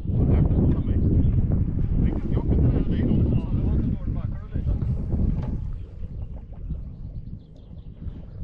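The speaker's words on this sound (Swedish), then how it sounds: "jag tror vinden ligger på lite mer upp också." Wind blows over a boat on open water during a cormorant hunt in Sweden, a loud, steady rumble of gusts and microphone buffeting with a voice faintly in the mix.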